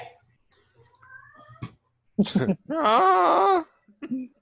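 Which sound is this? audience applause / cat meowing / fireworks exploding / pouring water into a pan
cat meowing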